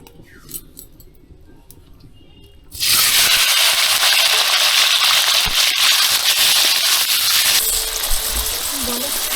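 Paneer cubes go into hot oil in a pan and burst into a loud, steady sizzle that continues for several seconds, with a few faint clinks beneath it.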